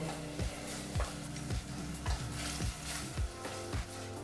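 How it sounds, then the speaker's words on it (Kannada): Tomatoes fry in a pan over a medium flame with a steady sizzle, while a spoon scrapes and stirs in a regular rhythm of soft knocks about every half second, close by with no talking. "ಎರಡರಿಂದ ಮೂರು ನಿಮಿಷ ಮೀಡಿಯಂ ಫ್ಲೇಮ್ನಲ್ಲೇ ಟೊಮೆಟೊ ಹಣ್ಣನ್ನು ಸಹ ಫ್ರೈ ಮಾಡ್ಕೋಬೇಕು"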